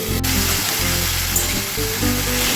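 Pumpkin, pointed gourd and cauliflower sizzling in a covered pan: a continuous, dense hiss of frying over a low background hum, heard up close.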